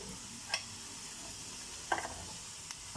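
Potatoes frying in a pan for a spicy potato fry, a soft continuous sizzle with a few faint scraping stirs, quiet and close.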